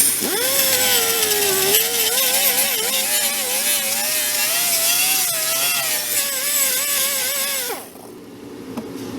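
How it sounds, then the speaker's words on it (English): An air-powered roll-lock wheel grinds old gasket residue off a motorcycle engine surface, a loud continuous high-pitched whine that wavers slightly in pitch, then cuts off near the end as it spins down. "what I'm going to do is use my roll-lock wheel, air compressed, just like this"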